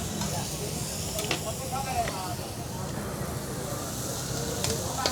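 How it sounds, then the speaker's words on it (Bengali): Eggs frying in a pan at a famous egg-fry stall in Santahar, giving a steady close sizzle and hiss that runs without a break, with faint chatter underneath. "এই যে একটার পর একটা কিন্তু এভাবে ডিম ভাজা হচ্ছে"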